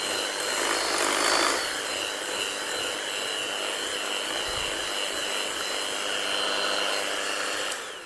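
Electric mixer whirring steadily through honey snap biscuit batter in a home kitchen, a continuous close, even hum with no talking.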